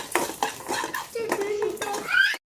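Spices and cumin dry roasting in a pan without oil, stirred with a metal spoon that clinks and scrapes in short bursts against the pan, close and fairly loud.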